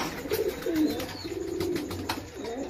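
Pigeons in a breeding loft in Bangladesh, where parent birds are feeding chicks, give soft, throaty rolling coos that repeat steadily and close by, with light shuffling and faint background clatter.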